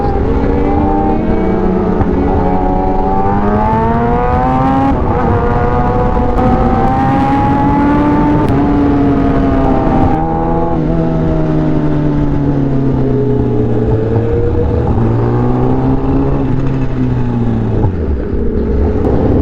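Vehicles speed past on a road in Dagupan, their engines droning loudly and continuously with pitch rising and falling as each passes close by.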